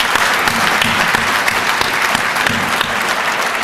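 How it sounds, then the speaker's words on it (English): Audience at a career and technical education symposium claps for the educators in the room: a dense, steady burst of many hands, loud and close, with no voices over it. "Let's give them a round of applause."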